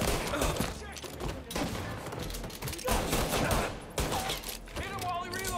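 Gunfire in the video game Mafia: Definitive Edition, repeated bursts of shots in quick succession over several seconds, loud and dense, with a voice talking in between.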